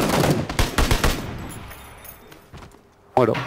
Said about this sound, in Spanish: Alguien dispara desde arriba